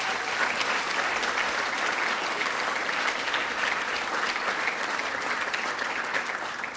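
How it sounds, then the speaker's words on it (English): A large audience at the 2013 Adirondack Challenge awards ceremony gives a steady, dense round of applause that keeps up evenly for the whole stretch, with no voices breaking through. "Let's give them a round of applause."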